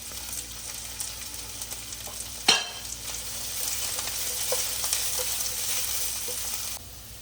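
Green chillies, carrot pieces and cashews stir-frying in a pan for sweet corn fried rice, a steady close sizzle with a sharp burst of clatter midway as more goes in, continuing alone without talk.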